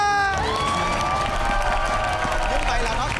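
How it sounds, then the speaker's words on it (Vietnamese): A crowd at a muddy outdoor charity game cheers and claps, a dense, sustained burst of applause and shouting, with a rising whistle-like tone and voices mixed in. "vỗ tay"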